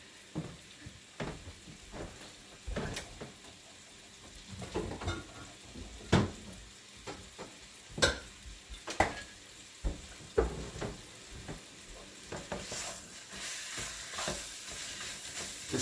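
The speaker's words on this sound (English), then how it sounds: "we are browning it. If you can hear it, it's sizzling right now" Chunks of lamb stew meat brown in a hot pot, a steady soft sizzle running throughout while intermittent clinks and scrapes of a utensil against the pot punctuate it, close and fairly quiet with no talking.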